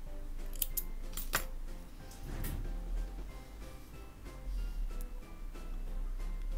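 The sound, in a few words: scissors cutting crochet yarn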